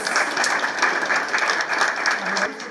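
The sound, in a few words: round of applause at library opening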